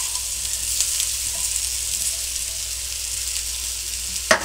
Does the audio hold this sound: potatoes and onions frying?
yes